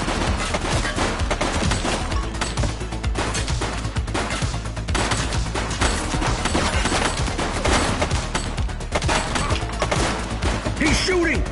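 Dense, continuous gunfire from a shootout in The Precinct, a video game, roars loudly and steadily throughout with rapid overlapping shots and thuds, no clear gaps.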